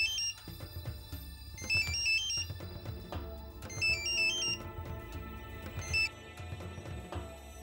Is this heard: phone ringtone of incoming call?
yes